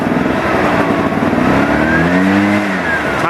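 Echo PB-500T backpack leaf blower engine revving under throttle control, a loud, close two-stroke drone that climbs and then eases in pitch as the throttle is pushed and released, heard alone without talk.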